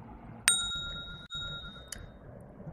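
A railway station public-address chime rings out as a bright, ringing ding that hangs and fades over a low background hum, followed by a softer second tone.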